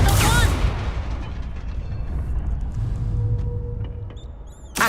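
A Confringo blasting spell cast in Hogwarts Legacy, a loud burst followed by a rumbling blast that trails off, close and heavy, with a shouted voice at the start.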